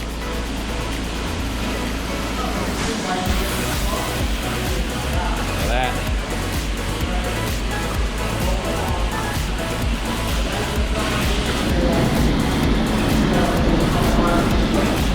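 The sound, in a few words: spinner carpet cleaning machine running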